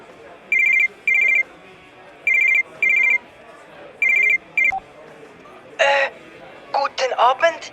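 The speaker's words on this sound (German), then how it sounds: "Nur 3 Stunden später läutet am TÜV Hauser sein Telefon" A telephone rings at a TÜV vehicle-inspection office: loud, clear electronic trills in short repeated pairs with brief gaps between them, followed by a few sharper sounds near the end.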